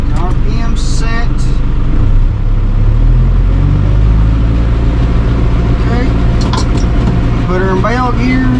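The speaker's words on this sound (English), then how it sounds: "Get the PTO turned on, baler's running" A tractor-driven hay baler runs with the PTO engaged, a loud, steady engine drone with rhythmic mechanical churning close by, while someone talks over it at intervals.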